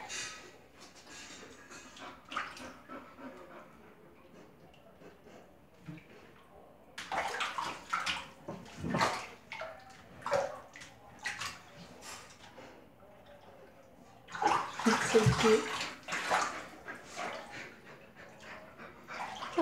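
A bull terrier splashes and laps in a warm bath laced with peanut butter, with intermittent water sloshes, licking and small dog whimpers, louder bursts in the middle and near the end, and faint voices in the background.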